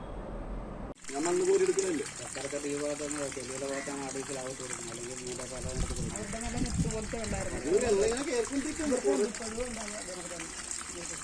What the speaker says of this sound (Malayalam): കിണർ സ്വയം നിറഞ്ഞു കവിഞ്ഞ് പുറത്തേക്ക് ഒഴുകിയത് ആശങ്ക സൃഷ്ടിച്ചു